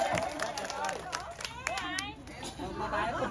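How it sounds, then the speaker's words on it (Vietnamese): An audience at a live Vietnamese song performance claps in scattered bursts, mixed with crowd chatter and a voice speaking over a noisy hall. "Mình muốn mình phải vỗ tay lớn mình ủng hộ cái bài hát đi."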